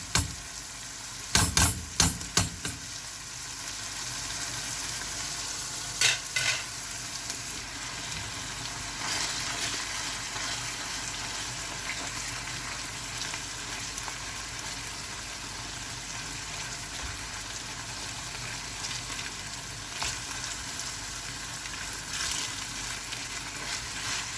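Minced meat fries in a pan with a steady, dense sizzle throughout, opening with a burst of clattering stirring and followed by a few later scrapes, with no voices.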